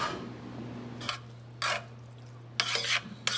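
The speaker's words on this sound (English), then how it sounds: "Stir that up. That all mix in." Buffalo chicken dip is stirred with a spoon in a pan over medium heat, giving a few short separate scraping strokes over a low steady hum, close and fairly quiet.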